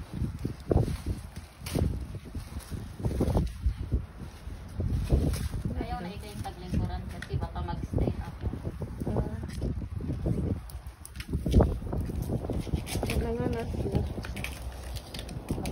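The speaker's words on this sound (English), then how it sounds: "It's windy." Gusty wind buffets the microphone in low rumbling bursts while cycling in Saudi Arabia, rising and falling while people talk nearby.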